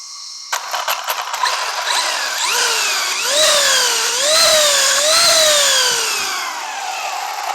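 A budget RC car on a 3S battery revs its electric motor with the wheels spinning freely, a whining pitch that climbs and falls in repeated surges after a brief start-up, loud and close, with no voices.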